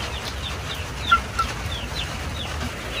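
Chickens on a small farm cluck softly in short, scattered calls, faint and somewhat distant over a low, steady background hum.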